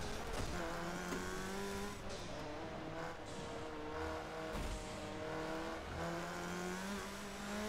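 Race car in the video game Forza Motorsport 7 on a dry track, engine revving up and down through gear changes with rising and falling whine and brief tire scrubs, loud and close.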